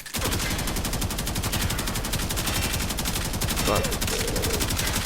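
Rapid automatic fire from the Karak Wraith rifle in Warframe rattles continuously for the whole stretch, dense and loud, with a voice talking briefly underneath.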